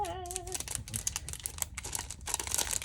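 Paper crinkles and rustles close up in quick, uneven bursts, with a brief whistling tone at the start.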